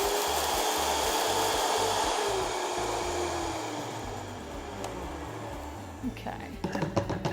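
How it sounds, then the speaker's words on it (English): Roasted rice whirring in an electric grinder run straight at high speed, a loud, steady grinding roar that eases slightly before ending in a few rattling clunks. "And you want this to grind down, so I'm going to go straight onto high speed."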